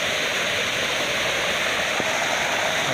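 Floodwater pouring into a garden during the July 2021 floods in Mürlenbach, Eifel, a constant loud rushing roar like a waterfall, steady and close, with no voices.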